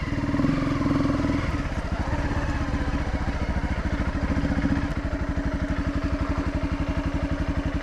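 Honda CRF250L motorcycle descending a steep, rugged hill track, its engine chugging loudly and steadily with a rapid pulsing beat and rattling clatter throughout, close up and alone.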